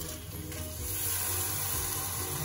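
Soaked basmati rice fries in a pan with a coconut mixture for coconut rice, giving a dense, continuous close sizzle that swells slightly as it is stirred.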